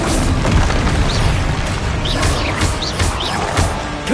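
Bombarda explosion spell in Hogwarts Legacy: booming blasts rumbling through a dense, loud mix of crashes and impacts, with high chirping spell effects popping in over the sustained roar.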